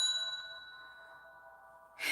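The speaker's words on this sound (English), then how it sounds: "I will ring the bell" A single bell strike rings out with a clear metallic tone that decays slowly over about two seconds, followed by a brief burst of rustling noise at the end.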